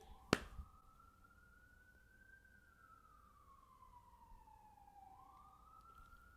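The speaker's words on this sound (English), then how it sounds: "the sirens outside are fucking crazy" Emergency vehicle sirens wail outside, a single long siren sweeping slowly up and down in pitch, moderately distant and steady, opened by a sharp knock right at the start.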